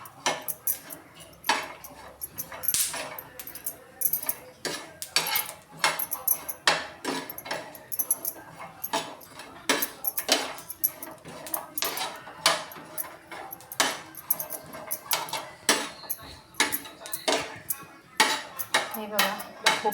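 Black sesame and grated coconut being dry-roasted for a chutney, a spoon or spatula repeatedly scraping and clanking against a metal pan in a steady, busy rhythm, close and fairly loud, with no talking.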